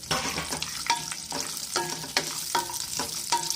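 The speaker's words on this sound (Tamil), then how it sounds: "இந்த ரெண்டையும் பொன்னிறமாக வறுத்து எடுத்து வச்சுக்கிறோம் நெய்யில் இருக்கிற நெய்யில் வந்து அவ்வளோ போடுறோம்" Cashews and raisins fry in ghee for a banana and flattened rice sweet, with a steady close sizzle and a string of sharp spoon clicks and scrapes against the pan as they are stirred, no voices.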